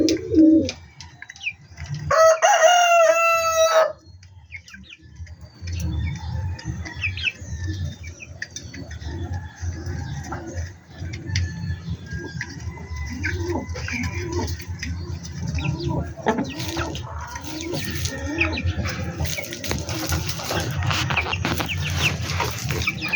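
Pet chickens and pigeons kept together, with close soft pigeon cooing running throughout and a loud chicken call near the start, all under steady background noise.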